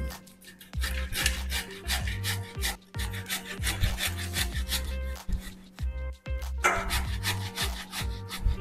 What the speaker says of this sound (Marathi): आपण बटाटे किसून घेऊ।